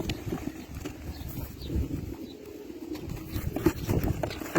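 Tumbler pigeons coo in low, soft murmurs that continue steadily throughout, close by against a faint background rumble.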